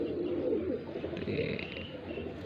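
Young pigeons coo softly close by, a low murmur of calls against quiet background noise.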